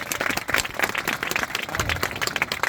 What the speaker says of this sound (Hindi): तालियां बजाएं इनके लिए